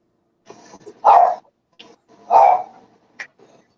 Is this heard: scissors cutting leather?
no